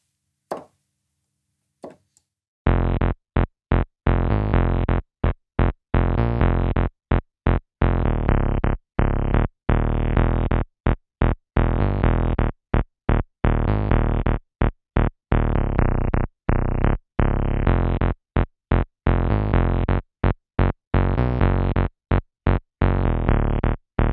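A loud, distorted synth bass riff from a Casio CT-S300 keyboard pulses in a steady, choppy rhythm, repeating short notes at shifting pitches as it is transposed, with no voices.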